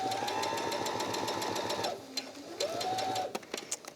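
Sewing machine running a fast continuous stitch along the edge of a drawstring makeup bag, pausing briefly and restarting, then a few separate clicks as it stops; close and steady.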